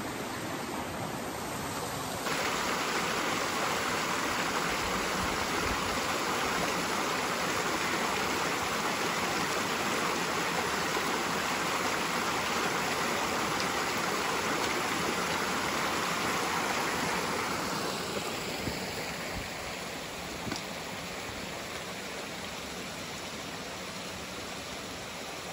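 Steady, broadband rush of a flowing mountain river in the Lembah Ramma valley on Bawakaraeng, loud and continuous and heard close, softening slightly toward the end with no voices over it.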